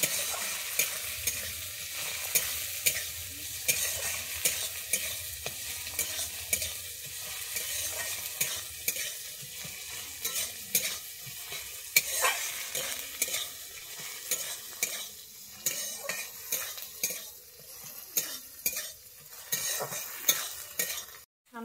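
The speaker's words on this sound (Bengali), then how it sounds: "টমেটো দিয়ে আমি এবারে আরো একটু ভালোভাবে কষিয়ে নেব।" Tomato stir-fried in a pan for jhal suji, a steady sizzle with repeated scraping stirs of a spatula or spoon against the metal pan, close and fairly quiet, without talk.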